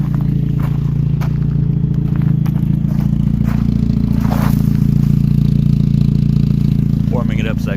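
A turbocharged 2006 Pontiac Solstice 2.4L engine idles while warming up after sitting for weeks, a loud, steady low rumble that holds unchanged throughout, close by with light clatter over it.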